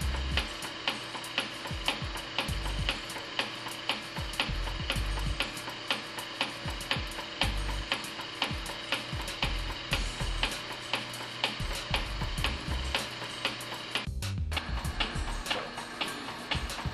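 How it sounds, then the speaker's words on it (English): ProMus pump running steadily during priming, a continuous mechanical drone with a regular ticking beat throughout, loud and close, with a brief dip near the end. "Allow the pump to run for a few moments."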